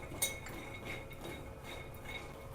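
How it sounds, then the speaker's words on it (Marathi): Peanuts dry-roasting in a pan over a low gas flame for poha Govind ladoo, with faint metallic clinks and light scraping from a stirring spoon, one sharp clink near the start, no voices. "चांगले आपण हे मंद गॅसवर असे खरपूस असे शेंगदाणे भाजून घेऊया."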